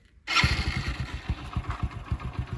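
A motorcycle engine kicks in abruptly and runs at a steady idle, with a close, even low putter.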